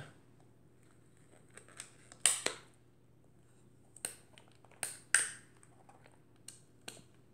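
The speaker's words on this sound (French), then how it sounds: "L'appareil fonctionne avec des ciseaux comme ceci." A folding scissor mechanism on a Gallus Cady Lux camera with a Hermo 105mm f/4.5 lens is worked by hand, giving several sharp metallic clicks and snaps spread irregularly over a quiet background, two of them louder.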